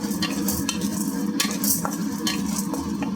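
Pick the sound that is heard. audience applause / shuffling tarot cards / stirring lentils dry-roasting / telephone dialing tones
stirring lentils dry-roasting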